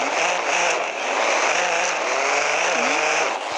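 A car's exhaust roars loudly and steadily as the engine revs, with a brief rising whine near the end. No one speaks.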